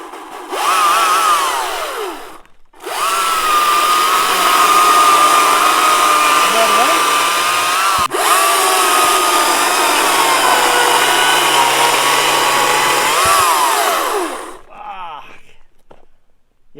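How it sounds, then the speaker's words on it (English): A GreenWorks Commercial battery chainsaw runs close by in a loud, steady whine, with a short pause after about two seconds and a brief dip near eight seconds, then cuts out near the end. "this is a battery saw."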